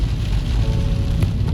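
Rain falls at Makino Kogen campsite in Japan as a dense, steady hiss of drops close by, with no voices.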